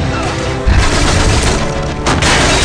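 Gunfire in a first-person shooter video game booms loud and dense, with a heavy blast and sustained rattling shots close up over a couple of seconds, under a voice talking.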